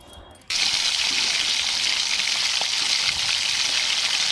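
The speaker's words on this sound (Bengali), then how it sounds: "ফার্স্টে বেগুনগুলো দিয়ে নিই ফার্স্টে বেগুনগুলো ভাজা হয়ে যায়" Eggplant pieces frying in oil in a kadai on a home kitchen stove, a loud steady sizzle that bursts in abruptly and holds close and continuous.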